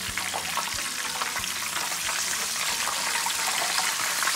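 French fries deep-frying in hot oil, a steady, close, bright hiss and crackle of bubbling oil that holds at an even level throughout, with a few low knocks early on.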